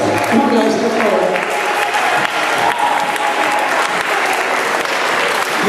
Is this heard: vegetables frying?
no